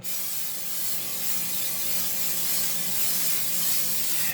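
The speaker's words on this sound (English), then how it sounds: "I'm going to use some of my cooking spray. I'm just going to spray the bottom of it." A steady, continuous aerosol hiss from a spray can, held for several seconds at close range with no pauses.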